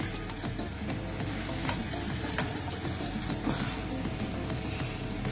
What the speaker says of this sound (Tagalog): haluin lang natin after natin maglagay ng mayonnaise mga idol